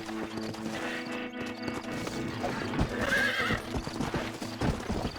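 Horse hooves clip-clop in an irregular rhythm alongside a whinny in the Red Dead Redemption video game, set over a steady tonal music or ambience bed.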